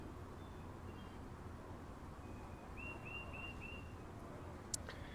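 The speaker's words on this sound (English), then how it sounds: "hear the birds sing." Birdsong in the Train Sim World 6 game on the NEC Metro-North line from New York to Stamford: a short series of four quick, faint chirps repeating over a soft ambient hum, followed by a brief sharp click.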